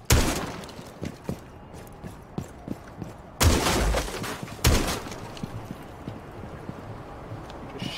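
Two heavy shotgun blasts in the tactical shooter Rainbow Six Siege land a second apart, set against steady clacking footsteps and light impacts that run through the whole stretch.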